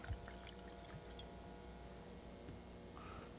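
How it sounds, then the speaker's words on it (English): White wine with apple and pear notes is poured into a glass: a faint, soft trickle with light splashing over quiet studio room tone. "We'll go ahead and pour some of this wine"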